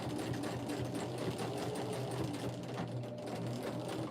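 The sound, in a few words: sewing machine back stitching a key fob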